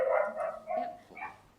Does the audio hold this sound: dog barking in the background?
yes